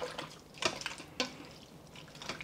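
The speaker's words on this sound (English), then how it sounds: "then we're going to add water because we're making a" Water splashes and trickles as it is poured into a 6-quart Instant Pot holding beef for a Taiwanese beef noodle soup broth, with a few louder sloshes on top of a quiet running pour.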